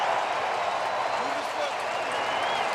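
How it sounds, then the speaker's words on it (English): Stadium crowd noise at a CFL football game in Saskatchewan, Roughriders hosting the BC Lions: a dense, loud, continuous roar of cheering and clapping, with no break across the whole stretch. "There's the crowd again, Chris."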